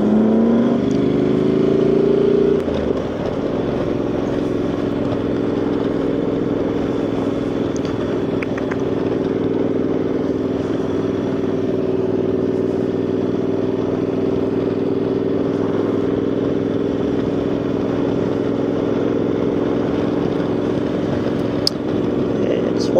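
A Honda motorcycle on the road, its engine running in a steady, loud drone with a low hum and rushing wind noise. The tone holds mostly level for the whole stretch after a brief rise at the start.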